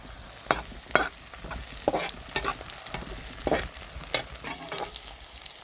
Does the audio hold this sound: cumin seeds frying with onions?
yes